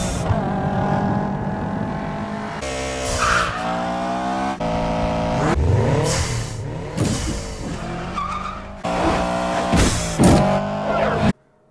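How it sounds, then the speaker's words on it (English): A Subaru engine sound is dubbed onto a Mitsubishi Eclipse Spyder in a street-racing film, heard as loud revving with shifting pitch, tire squeals and cuts between shots, mixed with film sound effects. "they used the sounds of a Subaru engine in post-production"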